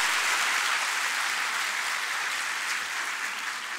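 An audience bursts into sustained, dense applause at a presentation, an even wash of many hands clapping that stays strong and slowly eases slightly toward the end.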